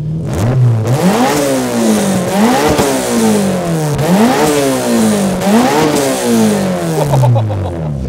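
A Honda Civic Type R FL5 engine revs close up and loud, climbing repeatedly in rising sweeps toward 9,000 rpm and dropping back between pulls.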